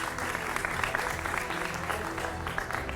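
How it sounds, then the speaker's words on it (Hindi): A studio audience applauds to welcome a guest, producing dense, steady clapping close up that lasts for about three seconds. "विवेक श्रीवास्तव जी का भी जोरदार तालियों से स्वागत कीजिए"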